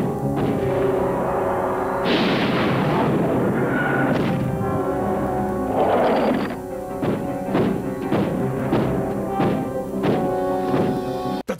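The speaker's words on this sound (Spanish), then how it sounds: "Dispara láser." Laser blasts from an animated space show called Guardians of the Cosmos, heard as a loud mix of zapping bursts, booms and thuds that start and stop over several seconds, with no talk.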